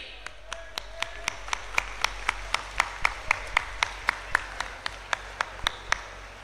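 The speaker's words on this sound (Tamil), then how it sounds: "நல்லா கை தட்டுவோமா ரெடி" An audience at a 2025 Tamil Nadu Saurashtra political conference claps in unison, about two dozen sharp, loud, synchronized claps in a steady, brisk rhythm with faint murmur beneath.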